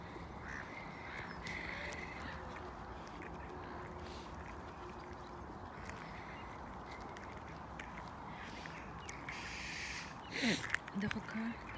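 Ducks quack in a park with pigeons nearby. The calls are faint and distant over steady outdoor ambience, and a louder burst of quacking comes close to the end.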